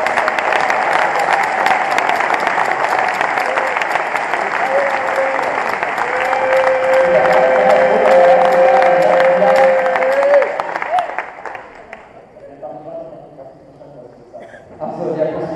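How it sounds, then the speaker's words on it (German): Audience applause fills a hall at the German final awards ceremony of a World Robot Olympiad robot competition in Ludwigshafen, loud and sustained for about ten seconds before tapering into scattered claps, with a voice speaking over it. "Einen großen Applaus"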